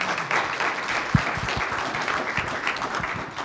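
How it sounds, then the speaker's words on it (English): An audience claps for panelists at a conference session, a moderate, steady round of applause with a few distinct nearby claps popping out of the crowd. "Can we have a round of applause?"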